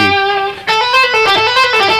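An electric guitar plays a quick pull-off phrase of six notes, A B C B A G, clear bright sustained tones following one another within two seconds.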